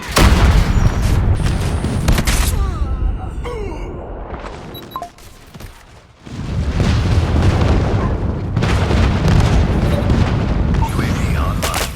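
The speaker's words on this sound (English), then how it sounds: "Enemy airstrike incoming." Booming airstrike explosions in a Call of Duty match, a dense roaring barrage that drops briefly to near quiet before loud blasts and rumble return and carry on to the end.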